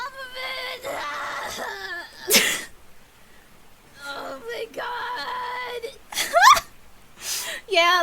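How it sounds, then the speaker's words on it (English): A loud, shrill scream from a person with chili oil in the eye bursts out in sharp piercing peaks amid whimpering, crying cries and talk. "That was an insane scream."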